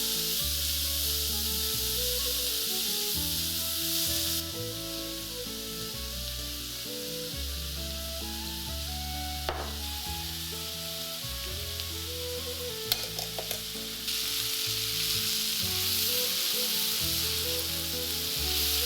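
Chopped onion and tomatoes seasoned with salt fry in a pan for paneer bhurji, a loud, steady close-up sizzle with occasional stirring clatter and no talking.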